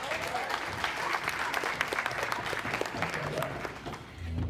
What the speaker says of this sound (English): So give her a great big round of applause.